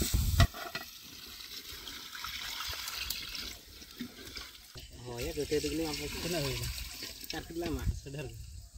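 Water poured into a pot of chicken and rice for a Santali-style biryani, a steady liquid splashing and gurgling close by, with people talking over it throughout.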